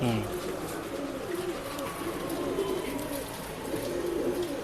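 A male Guldar pigeon in a pet shop gives soft repeated coos, fairly faint, with background voices and room noise.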